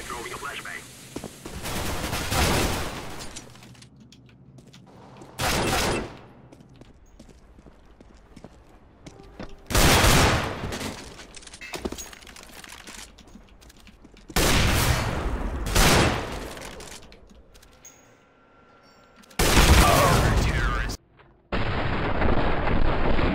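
Gunfire in the Counter-Strike (CS:GO) video game comes in several loud, dense bursts of rapid shots separated by quieter gaps. Players talk faintly in between.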